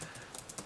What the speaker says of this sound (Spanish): estoy tecleando.